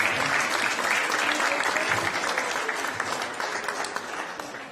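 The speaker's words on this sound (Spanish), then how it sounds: "Un aplauso para los chicos de las asistencias." Sustained applause from a church congregation at a Spanish-language service, dense and steady for several seconds before slowly tapering off.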